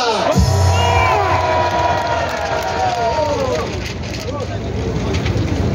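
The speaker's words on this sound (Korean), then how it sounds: "여러분이 그렇게 생각하시면 큰 박수 한번 해주시기 바랍니다." Crowd at an outdoor political rally in Korea breaks into loud, sustained applause and cheering with whoops, continuing steadily for several seconds.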